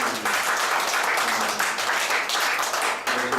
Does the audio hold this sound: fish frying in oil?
no